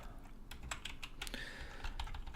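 Rapid keystrokes on a computer keyboard, irregular clicks in quick bursts, close but quiet over a faint steady background hum, with no talking.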